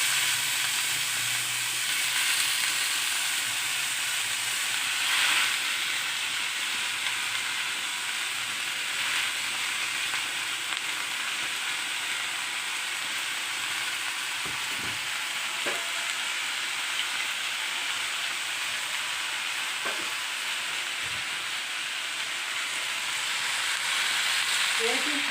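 Leafy greens tipped into a hot pan of oil with two or three green chillies give a steady, dense sizzle and hiss that stays even throughout, with a few faint stirring knocks.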